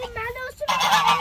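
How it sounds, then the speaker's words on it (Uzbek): Farmyard geese honk at close range, a few nasal, wavering calls overlapping in a short burst, loud and clear with no talk. "Mana bu g'ozlar ekan"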